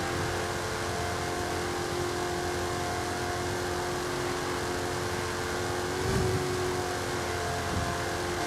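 A car engine in the Forza Horizon 5 racing game screams near 9,000 RPM on a top-speed run, running drag tires and stock suspension. It holds a steady, sustained high-revving drone, with a brief swell near the end and no voices.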